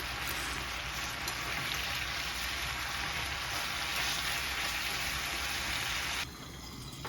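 Steak sizzling in a hot pan as it is flipped to its second side: a steady, loud crackling fry throughout, dropping suddenly quieter near the end.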